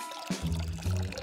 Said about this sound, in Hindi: ओह मुझे इसे पानी देना होगा।